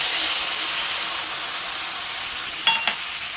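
Spice mixture tipped into hot oil in a home kitchen, giving a steady broadband sizzle throughout with two short louder crackling bursts near the end, close and without talk.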